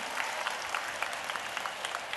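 Faint, steady applause from an audience at a Tamil talk by Dr. Kavitha Jawahar on parenting, a soft distant patter of many hands clapping throughout.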